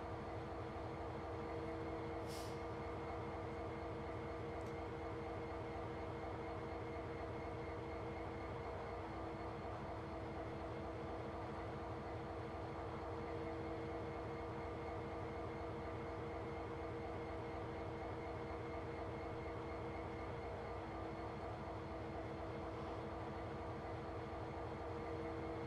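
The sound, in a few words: long freight train of JHA wagons in Train Simulator Classic video game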